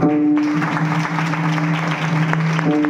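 Audience clapping at a kirtan gathering held for a birthday, a continuous close wash of applause over a sustained musical drone, throughout the short stretch.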